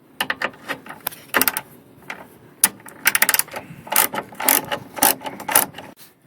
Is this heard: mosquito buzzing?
no